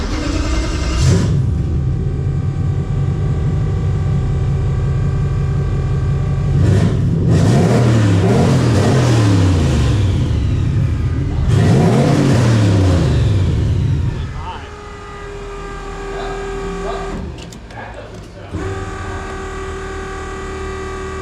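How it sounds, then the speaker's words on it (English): A turbocharged Nissan VK56 engine with a bigger turbo, running poorly on a dyno, revs up twice in long rising sweeps, then drops back to a steadier idle, with voices talking nearby. "You give it a rev and just see if it does something now."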